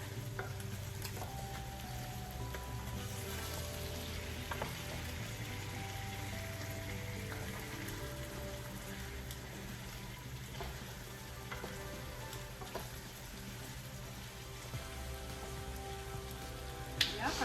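Chicken simmers in a pan with a quiet, continuous sizzle and bubbling hiss, low steady background rumble, and occasional faint clinks and scrapes, heard close but soft throughout.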